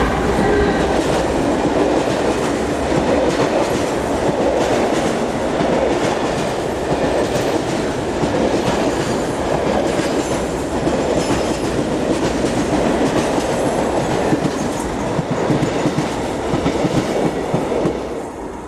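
SNCF class BB 36000 electric locomotive hauling a mixed freight train near the French-Belgian border, a loud steady rumble of wagons rolling close by with continuous clattering wheels and faint squeals throughout.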